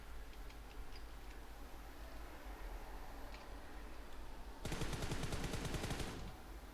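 A loud burst of rapid automatic gunfire from PUBG Mobile fires at an enemy, lasting about a second and a half over steady game ambience, with no talking.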